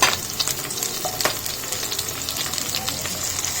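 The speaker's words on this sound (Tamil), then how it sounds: "நல்லா ஃப்ரை பண்ணிக்கோங்க." Chopped onion, capsicum and green chilli fry in hot oil for a chilli paneer dish, giving a steady, close crackling sizzle with a few faint stirring scrapes and no voices.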